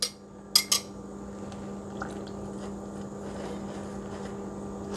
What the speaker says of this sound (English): we're simply going to stir in the wet ingredients to the dry